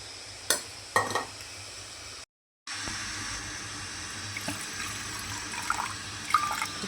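Powder being stirred into a little water, with a couple of sharp clinks at the start, then soft, steady swishing and scraping close by.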